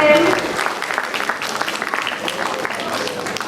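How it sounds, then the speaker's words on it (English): An audience at a playschool annual function claps in a steady wash of applause, loudest at the start and then holding at a moderate level, with a brief electronic tone near the beginning. "Please give a big round of applause for them."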